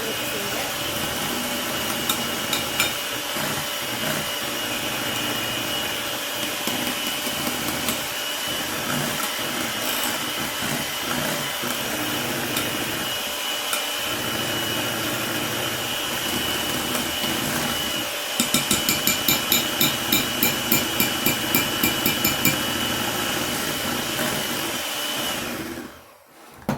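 Electric mixer beating blueberry cream bread batter with cream cheese, a loud continuous whirring drone with a faster rattling stretch near the end before it switches off.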